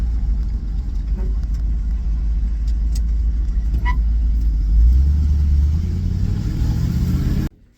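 A Ford F100 truck with stiff new rear shocks drives over bumpy road, a steady close engine and road rumble with a few thumps, swelling near the end before cutting off abruptly.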